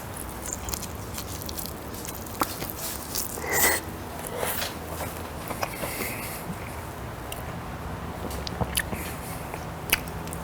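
Close crunchy bites and wet chewing of hot smoked pork belly burnt ends glazed with a sweet mango habanero sauce, with irregular sharp crackles and squishy mouth sounds over a steady low background.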